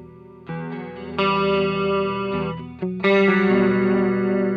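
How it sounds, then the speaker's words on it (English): Electric guitar played through the CE2 chorus model on a NUX Mighty Plug Pro, sustained strummed chords with a shimmering, slightly distorted tone, two attacks swelling and ringing out, close and fairly loud with no talking. "Compared to the CE2 chorus."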